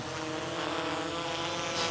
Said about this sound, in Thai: เขาจะชะลอตัวก่อนนะครับ แล้วตัวโดรนเนี่ยจะค่อยๆลง